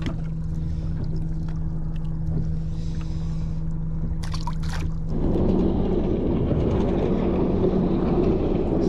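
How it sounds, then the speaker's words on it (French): Jet skis passing far offshore, around 4000 m from the coast, heard from a small fishing boat trolling at 3–4 knots: a steady engine drone that swells into louder, broadband rushing water and motor noise for the last few seconds. "C'est rare de voir des jet skis à cette distance."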